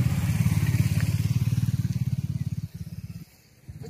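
A motorcycle engine at Lavasa city in India, a close, steady rapid throbbing idle that stops abruptly near the end and gives way to a few clunks and a faint restart rumble.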